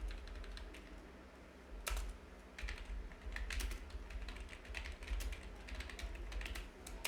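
Keys tapping on a computer keyboard while entering a narration in Tally ERP 9 accounting software, a quiet run of light irregular clicks in short bursts, close by, with no talking.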